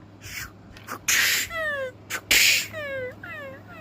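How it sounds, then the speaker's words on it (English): Two sharp, loud sneezes close to the microphone, each a sudden noisy burst, followed by high squeaky cat-like cries that rise and fall in short repeated calls. "I just had to sneeze real quick."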